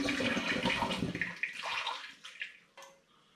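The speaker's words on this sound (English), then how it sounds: "I'm now going to pour through the funnel into the demijohn the sweet lemon and tomato tea." Sweet lemon and tomato tea poured through a funnel into a glass demijohn for nasturtium leaf wine, a loud gushing, gurgling stream that slows to trickles and small glugs before stopping, close and without talk.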